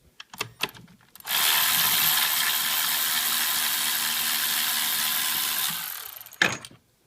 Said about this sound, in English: this is a Milwaukee M12 1/4" drive ratchet